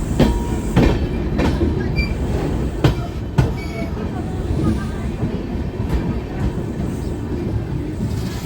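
Passenger superfast express train running on tracks, steady loud rumble with repeated clickety-clack wheel beats and occasional metallic squeals, heard from inside the moving train.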